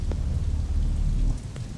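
Heavy rain pours outside in a steady, dense rush with a deep rumbling low end, loud and continuous, with a couple of faint knocks and no talking.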